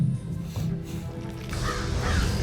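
Crows caw harshly in a scene from a TV show, several rasping calls layered over a low rumbling background, fairly close and without speech.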